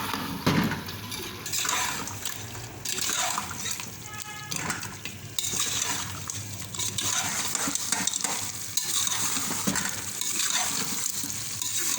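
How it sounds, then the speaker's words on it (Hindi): Coriander powder and cardamom frying in oil for aloo gosht, with a dense, loud sizzle and busy stirring, pan and spoon clatter throughout, ending in a brief quieter gap. "अब ये धनिया पाउडर और इलायचियाँ ये भी डाल दूँगी इसमें। अब इसको भून लूँगी।"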